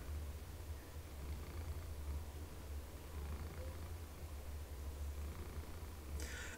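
A pet cat named Ellie lies on a desk purring loudly, a steady close low rumble that runs continuously throughout with no voices.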